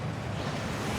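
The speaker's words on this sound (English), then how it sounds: "That waterfall washes away all enchantments." Rushing waterfall inside the Gringotts vaults in Hogwarts Legacy, a dense, steady roar of falling water with no break, loud and close.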